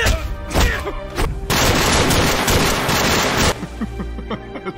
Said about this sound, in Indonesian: kelompok anak buah Kop yang masih tersisa muncul dan melepaskan tembakan